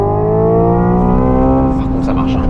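A Hyundai Ioniq 5 N electric car plays its simulated engine sound in manual mode, a loud, close synthetic drone climbing steadily in pitch as if revving, with faint talk near the end.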